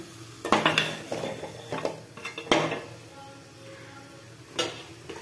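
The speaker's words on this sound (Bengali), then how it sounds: "এভাবে আমি কষতেই থাকবো। পুরো মশলাটা একদম চিকেনের সঙ্গে মেখে যাবে।" Chicken stirred with spice masala in a pan, a utensil scraping and clanking against the metal in irregular bursts over a faint sizzle of frying, with quieter pauses between strokes.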